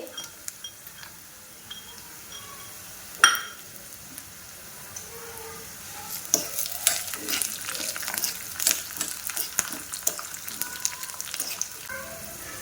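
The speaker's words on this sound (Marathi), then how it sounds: "छानपैकी कडकडीत आपल्याला हा तडका तयार करून घ्यायचा आहे। यामध्ये थोडे शेंगदाणे घालायचे आहे।" Peanuts drop into a hot oil tadka with chillies for curd rice, setting off a crackling sizzle that grows busier and louder, with spoon clinks and stirring against the pan.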